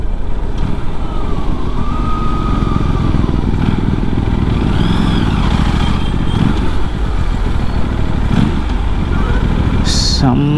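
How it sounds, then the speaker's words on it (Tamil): Aprilia RS 457 motorcycle engine and exhaust while riding on the road, a steady, loud engine drone and wind rush filling the whole stretch, with a short rising engine note near the end. "எனக்கு ரொம்ப பிடிச்சிருக்கு இன்ஜினோட சவுண்டு, எக்ஸாஸ்டோட சவுண்டு வாவ்னு இருக்குது"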